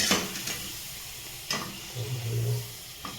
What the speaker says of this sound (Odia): ପିଆଜକୁ ଆମେ ହାଲକା ବ୍ରାଉନ ହେବା ପର୍ଯ୍ୟନ୍ତ ଭାଜିବା